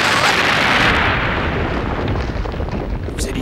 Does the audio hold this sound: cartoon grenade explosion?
yes